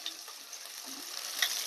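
Spice paste sizzling in a pan, a soft continuous frying hiss with light scrapes and taps of a spoon as it is stirred, faint and close.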